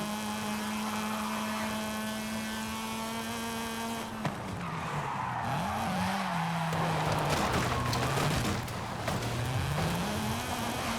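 A modified Mazda RX-7 on low-grip tires drifts in Forza Horizon 5. A steady engine drone gives way to loud tire squeal that rises and falls in pitch as the car slides through the corners.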